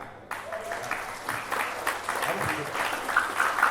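Applause from a lecture audience at a university public talk on leadership and entrepreneurship, steady clapping filling the room for a few seconds at moderate level, with faint chatter underneath.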